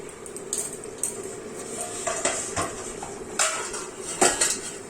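A metal lid set onto a pot of organic black rice simmering in water over a medium flame, with a few sharp, quiet clinks and clatters scattered over a low background hiss.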